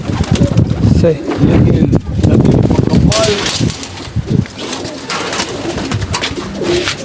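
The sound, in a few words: pigeons cooing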